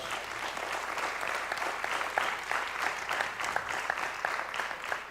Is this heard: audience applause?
yes